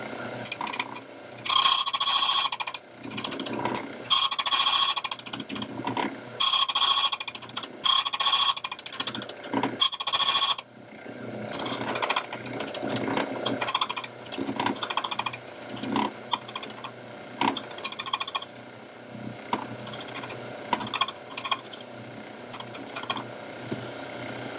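A locksmith's key cutting machine cuts a key, grinding in loud bursts of harsh metallic rasping with short pauses and clicks between passes, close and continuous.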